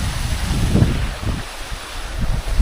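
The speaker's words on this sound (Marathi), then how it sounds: "चालूच आहे भाई पाणी." Water flowing in a stream at Lonar Sarovar's Hiran Dhaar, a rough rushing wash heard close with gusty wind buffeting the microphone and uneven surges, no speech.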